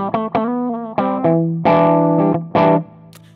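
Electric guitar chords played through a lightly overdriven amp, several strummed hits ringing out with a touch of grit and reverb.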